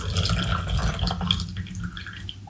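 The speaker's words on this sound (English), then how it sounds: "It's me pouring my coffee into my mug" Pressed coffee poured from a press into a mug, a steady close liquid trickle with dripping, running continuously and easing off toward the end, no talk over it.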